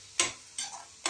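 Onion paste fries in oil in a pan for a curry, with three quick sizzling, scraping stir strokes spaced at a steady rhythm, close and fairly loud.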